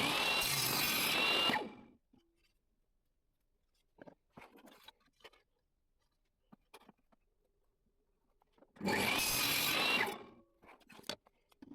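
Power saw cutting small wooden pieces for a fruit bowl, two loud bursts of whining cutting at the start and near the end, separated by quiet with faint workshop clicks and knocks.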